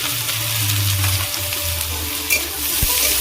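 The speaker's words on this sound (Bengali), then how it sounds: "তেল গরম হয়ে গেছে রসুন কুচি দিয়ে দেবো আদা কুচি কাঁচা লঙ্কা কুচি পেঁয়াজ কুচি" Chopped garlic, ginger, green chili and onion fry in hot oil in a heated wok, giving a steady close sizzle with a low hum underneath and one brief knock near the end.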